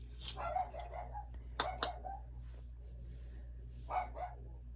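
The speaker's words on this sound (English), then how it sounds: "Let me check real quick and see what the dog's barking at" A dog barks outdoors in a few sharp separate bursts, moderately distant, over a steady low hum.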